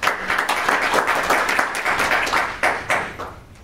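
An audience at an academic conference on progressive politics applauds a research institute director before his greeting, a steady dense wash of clapping with a few louder claps standing out, close and sustained throughout.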